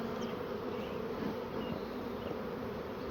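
Honeybees buzz steadily around a hive colony in a continuous, dense hum that stays even and close for the whole stretch, with no voices.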